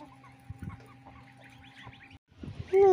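Chickens on a farm pecking at a branch they have been given, heard as soft, close clucks scattered over a steady low background hum, with a sharper bird call at the end.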